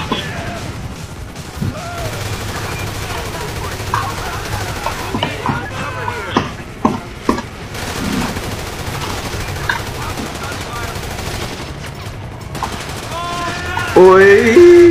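Rapid bursts of gunfire crackle continuously over a busy, noisy game soundscape, with some shots sharper and nearer than others.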